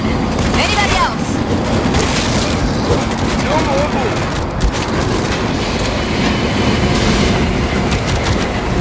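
Train in the video game World War Z, New York level: a loud, continuous rumbling clatter of rail cars rolling, dense and unbroken for the whole stretch with faint squealing overtones.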